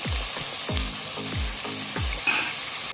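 Tamarind being stirred into a frying Madurai thanni chutney mixture with green chillies in a pan, a steady sizzle broken by about five regular scraping strokes of the spoon, close and clear with no talking.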